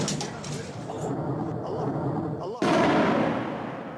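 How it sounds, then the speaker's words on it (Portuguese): Distant bombardment explosions rumble continuously, and partway through a sudden heavier blast hits and its roar lingers. "Explosões e fumaça podiam ser vistos a quilômetros de distância."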